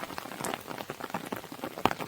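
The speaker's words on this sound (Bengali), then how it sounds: "আকাশের যা অবস্থা মনে হচ্ছে বৃষ্টি আর আজ থামবে না" Rain falls steadily over a village scene in a Bengali cartoon, a continuous patter of drops on surfaces with scattered sharper taps, moderate in level and with no talking.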